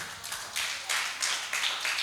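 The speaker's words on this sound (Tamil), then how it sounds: "கைத்தட்டுங்க." A church congregation clapping together during a Tamil worship service, dense rhythmic applause from many hands swelling in a few waves over about two seconds.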